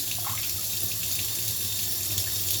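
Shower water running steadily while a person washes their body, a continuous close hiss of spray with no talk.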